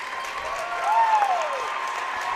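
A home crowd for Oklahoma Bible cheers and applauds at a girls basketball regional championship game at Garber, with a steady roar that swells to a louder peak midway and a high whistle-like tone rising and falling over it.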